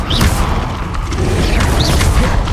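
A booming Expelliarmus spell effect from the Hogwarts Legacy video game, a dense, steady rumble with crackling bursts that holds loud and unbroken for the whole stretch, with no talking.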